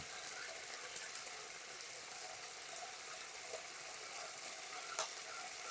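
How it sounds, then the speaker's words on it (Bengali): Half a spoon of nigella seeds and two whole dried chillies fry in hot oil, giving a steady close hiss with one brief pop near the end. "এরপর আমরা হাফ চামচ মতো কালো জিরে ফোড়ন দিয়ে দেবো এই তেলের ভিতরে এবং দুটো আস্ত শুকনো লঙ্কা ফাটিয়ে দেবে"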